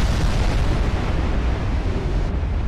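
Warship guns fire in the naval combat game Ultimate Admiral Dreadnoughts, a loud, sustained booming roar of artillery that fills the clip with heavy rumbling and no voices.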